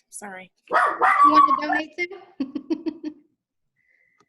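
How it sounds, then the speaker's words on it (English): A pet dog barks several times in a quick, loud burst near a speaker at an indoor charity fundraiser event, the barks following a few words of talk. "That's my dog. Don't be alarmed."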